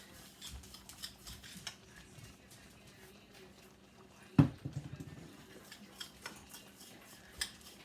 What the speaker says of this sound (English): We're gonna stir this up.